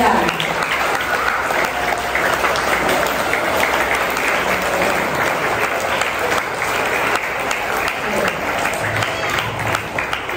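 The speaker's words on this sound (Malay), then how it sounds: "sekali lagi Cikgu minta kamu beri tepukan kepada Cikgu Nizam" A school audience at a teacher's farewell ceremony claps in loud, continuous applause that holds steady for about ten seconds with no talking.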